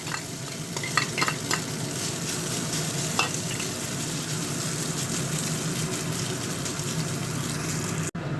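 A bread, egg and milk pizza base fries in a pan, producing a soft steady sizzle with a few light scraping taps early on, quiet and close with no talk.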